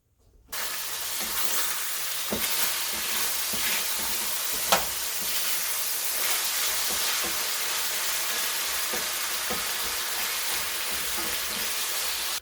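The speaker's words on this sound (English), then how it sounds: "we have our 10-inch cast iron skillet. We're going to throw our ground beef in here." Ground beef sizzles steadily in a 10-inch cast iron skillet. The hiss is close, dense and unbroken, with a few light scrapes and pops on top and no talking.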